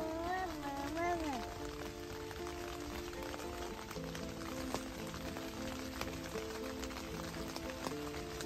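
Rain patters steadily at a campsite in a state park, a soft even hiss with occasional drops, while people and children talk faintly in the background.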